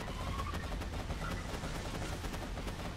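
Sustained automatic gunfire in Borderlands 2 as a weapon empties a full magazine, dense rapid shots running unbroken and loud for the whole stretch.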